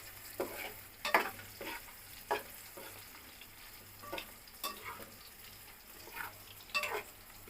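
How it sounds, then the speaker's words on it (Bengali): Veggie soya chunks frying to a crisp in a pan give a faint, steady sizzle, broken by intermittent spatula stirs and scrapes over a low background hum. "এটা কিন্তু আরেকটু কড়া ভাজতে হবে"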